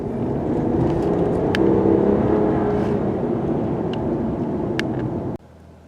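A brand-new 2025 Ram Warlock pickup with an inline-six engine drones steadily at a low pitch while driving, a constant near hum with tire and road noise that cuts off abruptly near the end.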